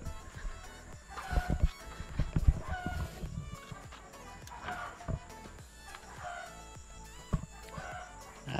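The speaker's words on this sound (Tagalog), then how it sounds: "lipat natin yung alaga nating manok dito." Small flock of ready-to-lay chickens in a homemade coop for five hens, with soft clucking and occasional rooster-like calls scattered among shuffling and handling noises, moderately close with light background activity.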